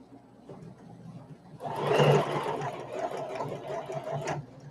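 A sewing machine runs a back stitch, starting after a quiet moment and then whirring steadily and loudly for about three seconds before stopping.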